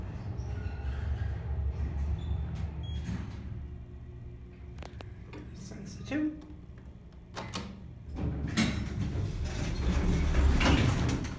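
Dover hydraulic elevator doors at a JCPenney in Ridgmar Mall slide and bang shut with rattling metallic clunks, a low motor hum underneath and a voice talking over it.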